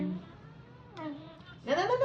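A female cat indoors gives short, wavering cries over a low hum, with a louder cry at the end.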